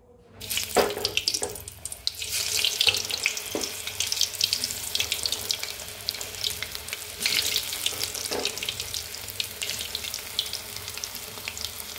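Steady, dense sizzling and crackling of chopped alu vadi pieces frying in hot oil, fairly loud and close, continuing throughout with a few sharper pops.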